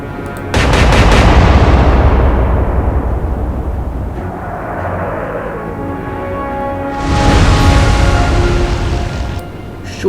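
Heavy naval guns fire in the World War II naval strategy game Atlantic Fleet, a loud booming salvo that rolls and echoes for several seconds before a second blast follows, with no talk over it.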